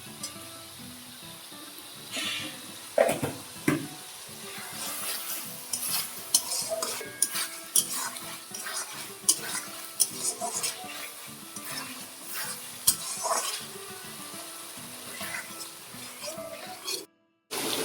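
Spice paste with a little sugar sizzling in a kadai while being stirred for mince khichuri, with steady frying hiss, repeated scraping of a spatula and occasional clinks against the pan, continuous and close.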